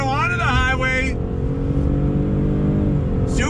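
A 2021 Ford F-150 PowerBoost King Ranch hybrid pickup pulls onto a highway under throttle, a steady smooth engine drone heard from inside the cab, loud and continuous, with a voice talking briefly over it at the start.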